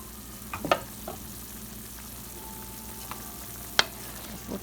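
Marbled beef for chile con carne sizzles and frying in a pan, a steady low crackle broken by a few sharp clicks and clinks of a utensil against the pan, with no talking.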